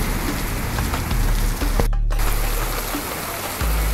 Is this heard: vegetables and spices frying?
no